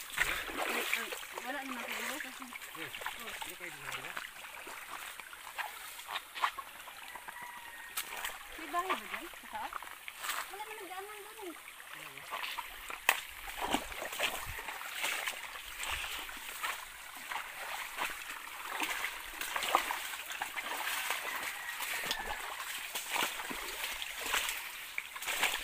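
Stream water splashes and trickles steadily beside a mountain footpath as hikers cross it, with people talking over the flow throughout.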